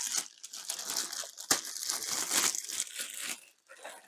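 Plastic crinkles and rustles close up in short, irregular bursts with one sharp snap, fairly quiet, in a home sewing setting.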